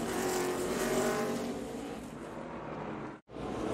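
The number 44 race car spins out during an Xfinity Series race at Richmond Raceway, a loud, roaring engine and rushing track noise that drops out sharply for an instant before resuming.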